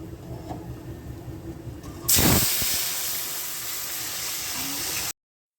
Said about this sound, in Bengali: ডালটা ফোড়ন দিয়ে দিলাম একটু সর্ষে আর শুকনো লঙ্কা দিয়ে